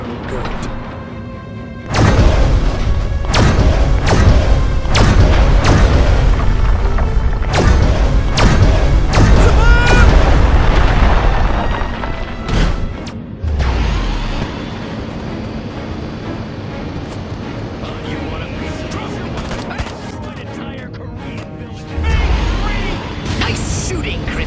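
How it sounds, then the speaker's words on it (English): Gunfire and explosions in the video game Destroy All Humans: a loud barrage of sharp blasts and heavy thuds for the first half, easing into rumbling noise, with talking partway through. "Nice shooting, Crypto."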